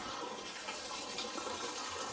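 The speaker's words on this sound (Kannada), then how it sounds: "ನಂದಿ ಬಾಯಿಂದ ನೀರು ಬರುತ್ತೆ." Spring water pours steadily from a stone Nandi statue's mouth into a temple pond at Antaragange, a constant close splashing rush with no talk.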